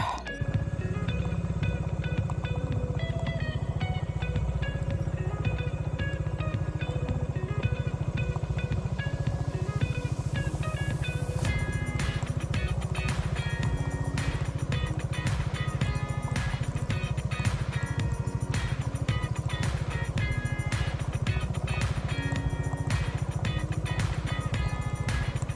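Large motorcycles climbing the steep road up to Mt. Samat in Bataan, a steady, continuous engine drone that holds for the whole stretch, with faint voices now and then.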